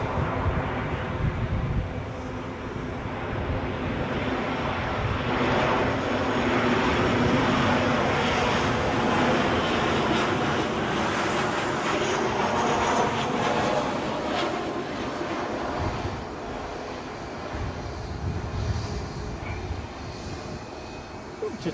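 A Transavia airliner on short final landing at Edinburgh airport, a loud, close jet roar that builds to a peak mid-way and then eases, with faint wind noise and no clear talk.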